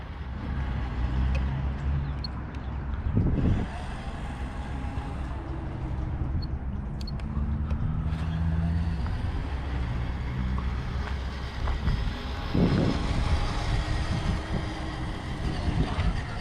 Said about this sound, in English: We can get over it with some throttle. And we hit a gravel patch here, and she's working quite well.